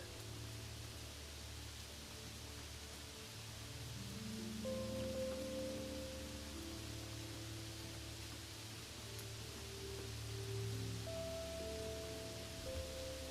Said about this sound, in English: The rain starts with small droplets at first, getting heavier and heavier.